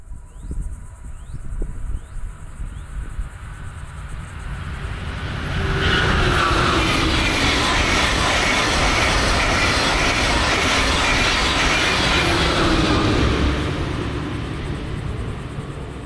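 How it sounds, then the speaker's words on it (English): A Brightline passenger train carrying an Orlando Health wrap passes near Walton Road in Port St. Lucie, its low rumble building into a loud, steady roar of wheels and rushing air, with faint squeals, before easing off at the end. "Here we see the Orlando Health Wrap train again."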